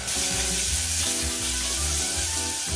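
Chopped garlic and crushed shallots sizzling in hot oil in a pan: a loud, continuous, close frying crackle that fills the whole moment without pause.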